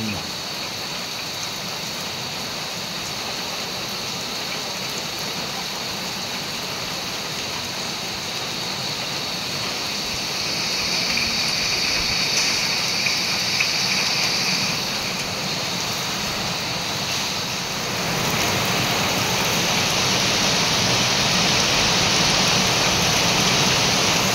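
Heavy afternoon rain pours down around a house in a constant, loud hiss that swells partway through, and a faint voice briefly comes through.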